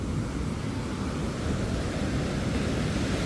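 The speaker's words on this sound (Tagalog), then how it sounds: "Ang lakas ng alon." Strong sea waves at night roll in as a heavy, continuous low roar and wash, loud and unbroken, with wind buffeting the microphone and no voices.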